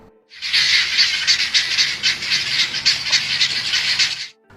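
A flock of guinea fowl giving alarm calls together, a loud, dense, harsh chattering that starts abruptly and runs steadily for about four seconds before cutting off, close by with no talking.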